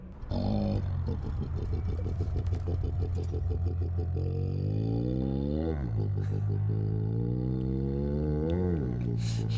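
A car with a thick, loud exhaust roaring, deep rumbling idle breaking into rising and falling revs, continuous and close with no talking.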